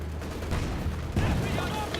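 Dense, continuous gunfire from an MG team in Company of Heroes 2, a battle din of rattling bursts and booms filling the clip, with a louder surge midway and no voices.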